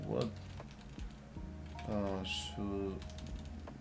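A password being typed on a computer keyboard at a Linux terminal: scattered light key clicks tap out at an uneven pace, close by, with a voice speaking briefly over them.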